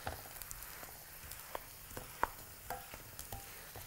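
Seafood and vegetables being stirred in a frying pan for a Chinese-style dish, with a quiet sizzle under scattered scrapes and taps of the utensil against the pan.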